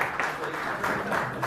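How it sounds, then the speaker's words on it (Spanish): An audience in a church breaks into brief applause, a soft patter of clapping heard under speech. "Un aplauso, se le quiere dar un aplauso"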